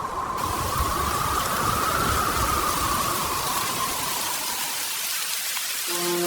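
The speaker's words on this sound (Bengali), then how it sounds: "সর্বনাশ, এত জোরে বৃষ্টি!" Heavy storm rain pours in a Bengali village cartoon scene, a dense, steady roaring hiss that fills the whole stretch at close range, with a brief tonal sound entering near the end.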